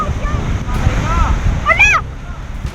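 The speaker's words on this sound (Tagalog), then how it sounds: "Sobrang laki po kasi ng alon." Large ocean waves surge and crash against a rock formation, a broad rushing wash with wind buffeting the microphone and a brief mechanical whine partway through.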